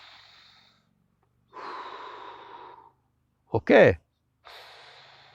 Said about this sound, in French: Une première chose que tu peux faire, donc, c'est de prendre 3 respirations conscientes.